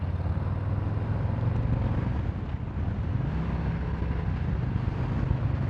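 A 2024 Harley-Davidson Low Rider S fitted with JRI suspension, ridden through twisty roads: a steady, loud low engine drone with gear-shift pitch changes, heavy wind buffeting over it and no talk throughout.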